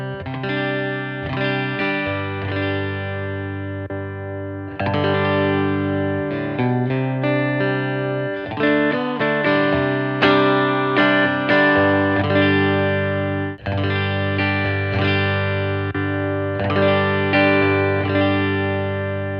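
An electric guitar plays a repeating chordal phrase, first with a clean tone, then colored by an Origin Effects Deluxe 61 pedal that thickens and shifts the sound.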